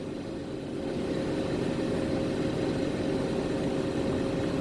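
A Ford F550 truck with a 6.4 Powerstroke diesel hauls 20,000 pounds up a long hill with the pedal to the floor, giving a steady, droning engine hum heard from inside the cab with no talk.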